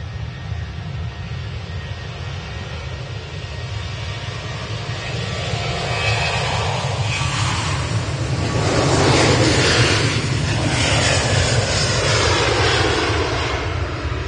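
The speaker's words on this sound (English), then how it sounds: "Jet 2737 off to Venice" A Jet2 Boeing 737 takes off from Manchester Airport bound for Venice, its engines a loud sustained roar that builds and swells past its peak as the jet climbs away, with no one speaking.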